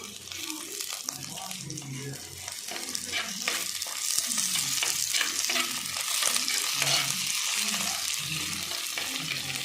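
Garlic and ginger fry in a pan with curry leaves for a gooseberry pickle, a steady sizzle with intermittent scraping strokes of a stirring spoon, close and continuous, growing slightly louder toward the end.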